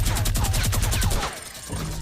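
Rapid bursts of gunfire in Fortnite, dense overlapping shots for over a second before breaking off into quieter game ambience.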